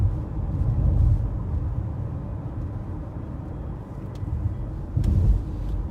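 A Mazda car on a test drive, turning right at a light, with a steady low road and engine rumble from inside the cabin that swells briefly near the start and end.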